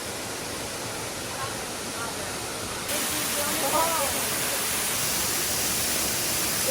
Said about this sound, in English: So now I am standing behind Lower South Falls. So still pretty big waterfall